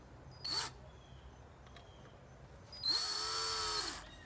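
Power drill tightening a mount on a small lantern wind turbine, two close bursts of whirring motor, a brief one and then a longer, steadier run, in a quiet setting.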